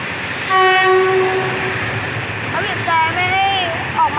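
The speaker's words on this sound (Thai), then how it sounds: "ตอนนี้ครับสับรางนะครับนั่นไงทำการสับราง" A Thai passenger train sounding its horn in long held blasts during rail switching at a junction, loud and close, with rumbling rail noise and a voice speaking over it.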